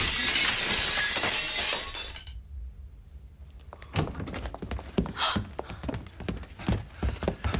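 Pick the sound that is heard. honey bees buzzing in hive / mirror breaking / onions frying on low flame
mirror breaking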